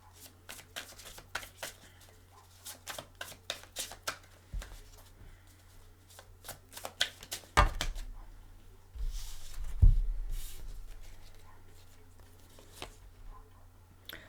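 Tarot cards are shuffled by hand in quick bursts of crisp riffling and soft flicks, close and fairly quiet, pausing and resuming across the stretch with a few louder thumps of the deck.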